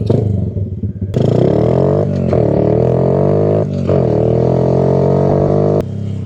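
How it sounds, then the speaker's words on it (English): A small old Honda three-wheeler ATV revving and riding close by, its engine buzzing loud and rough with rising and falling throttle and some clatter. "gonna take the tiny three-wheeler for a rip"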